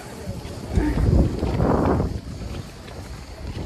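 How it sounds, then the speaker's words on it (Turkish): Wind rumbles and buffets against the microphone outdoors on the seashore at Hebil Bay, Bodrum, swelling in the middle before easing, with a voice faintly present underneath. "Sanki bugün de rüzgar var değil mi?"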